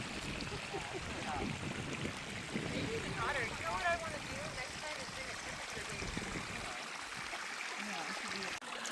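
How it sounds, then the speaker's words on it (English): Warm hot-spring water pours down a small waterfall in a steady, splashing rush, heard close up under people talking and calling out to each other throughout. "You're right in the waterfall"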